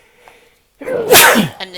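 A single loud, close sneeze bursts out abruptly after a brief spoken word and a moment of quiet, sharp and breathy with a quick decay.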